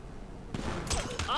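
Gunshots fire in Grand Theft Auto V, with a few sharp reports in quick succession over continuous game noise.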